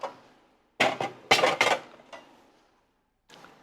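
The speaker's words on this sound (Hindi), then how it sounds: "अब मैं इसको डिश आउट कर देता हूँ" Beef biryani is served onto a plate with a metal spoon, giving clattering scrapes and clinks against cookware in short clustered bursts, followed by a lone softer clink after a pause, close and without talk.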